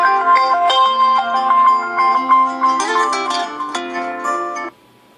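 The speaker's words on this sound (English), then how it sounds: "Alright, here's my ringtone." Ringtone from an LG G4 phone plays a bright, melodic electronic tune, loud and close, for about four and a half seconds before cutting off abruptly.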